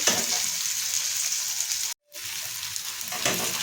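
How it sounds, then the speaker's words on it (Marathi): Sliced onion sautés in oil for a dry fish curry, making a steady close sizzle and crackle. It cuts out briefly near the middle and then resumes. "2 मिनिटं आपण तेलावरती परतून घ्यायचं आहे."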